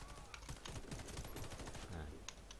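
Rapid bursts of gunfire from the FPS video game Warface crackle in quick succession, a dense fusillade with a faint voice underneath.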